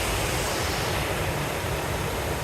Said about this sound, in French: on est juste à côté d'une cascade aussi